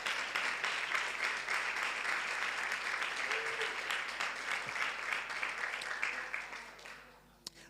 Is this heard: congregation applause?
yes